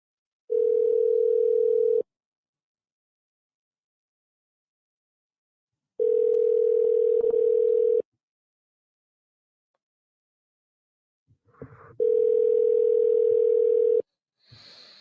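A telephone dial tone plays while a call is placed, as three steady two-second tones separated by silences, with a brief click and a short tone near the end.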